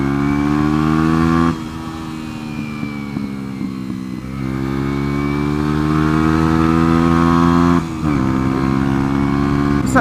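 A Lexmoto Adrenaline 125cc motorcycle ridden along country roads, its engine droning loud and steady through gear changes, with brief dips in pitch where the rider shifts, over a wash of wind rush.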